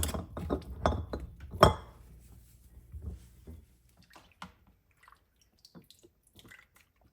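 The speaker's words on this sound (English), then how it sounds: "and tighten your lid." A metal lid being tightened onto a glass canning jar of bread and butter pickles, with a few sharp clinks and scrapes of metal on glass close by early on, then quieter small taps and rubs.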